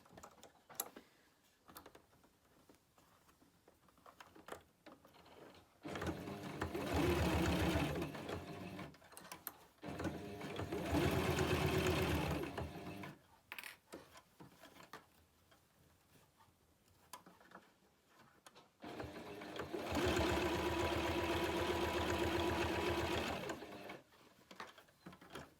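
A sewing machine stitches fabric for a reusable Christmas cracker in three separate bursts of quick rattling, with quiet gaps of handling between them.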